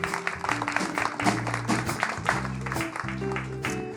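An audience at a French television show applauds in a dense patter of claps, heard over sustained musical tones that continue beneath it.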